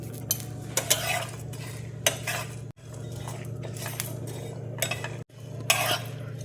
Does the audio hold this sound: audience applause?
no